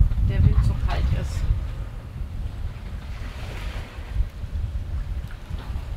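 Cold wind blowing at a sailing harbour in winter, a loud, steady rushing roar buffeting the microphone over surf and water noise, with occasional gusts.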